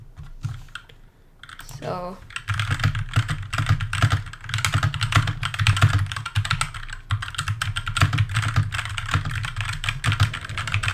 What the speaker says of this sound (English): I'm just gonna quickly test the typing.